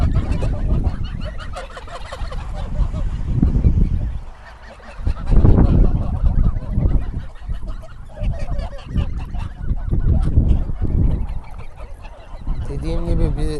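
Domestic geese honk loudly and repeatedly while feeding on sugar beet, their calls coming in irregular bursts and overlapping, with a brief lull before the honking picks up again.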